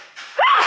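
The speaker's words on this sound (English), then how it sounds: "I need to sneeze." A pregnant woman with a head cold gives a single, close, sharp sneeze, preceded by a short intake of breath.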